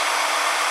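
A Stanley Fatmax heat gun blowing on its second speed setting, a loud, steady, close rushing hiss of air with no break over a brief moment.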